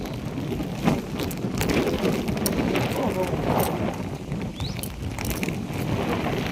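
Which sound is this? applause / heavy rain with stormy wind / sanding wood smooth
heavy rain with stormy wind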